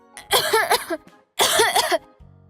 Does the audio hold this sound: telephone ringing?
no